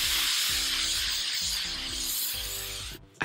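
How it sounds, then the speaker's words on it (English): Hairspray hisses from an aerosol can onto a wig in one long, close, steady spray that stops abruptly near the end. "let's just spray it with some hairspray."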